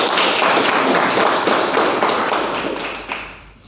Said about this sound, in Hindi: एक बार आप लोगों के लिए ताली हो जाए।